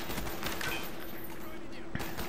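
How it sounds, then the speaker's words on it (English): Rapid M14 rifle fire in Call of Duty: Black Ops crackles steadily under a busy mix of game noise, fairly distant and muffled, with one sharper report near the end. "I think the M14 sounds better than the FAL anyway"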